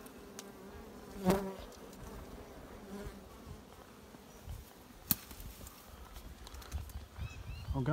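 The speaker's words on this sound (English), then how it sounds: "Few bees going in there, but I don't think it's a hive." Bees buzzing steadily at close range around a bee house, with a sharp knock and a few brief louder passes standing out from the continuous hum.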